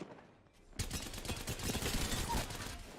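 A sudden, loud burst of rapid automatic gunfire from the Apex Legends video game, aimed at a Mirage decoy, rattling on continuously after a quiet start.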